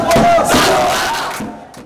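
Students at a boys' high school in Bangladesh burst into loud cheering and shouting together in the school courtyard after exam results, a dense crowd roar that peaks early and fades out over two seconds.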